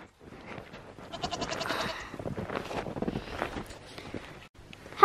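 Goats bleat repeatedly at close range outdoors while a tree is being worked on nearby, with short wavering cries and some wind noise on the microphone.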